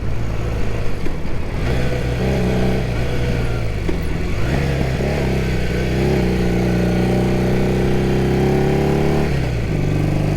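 A 1978 Honda CB400 motorcycle riding along an interstate and country road, its engine a loud, close, continuous drone whose pitch steps down and climbs again as the rider shifts gears.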